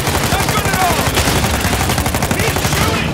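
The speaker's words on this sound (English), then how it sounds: "I'm blind firing, but you know what? Blind firing is still shooting." Rapid bursts of video game gunfire from blind firing in Uncharted 4, dense and loud, filling the whole stretch without pause.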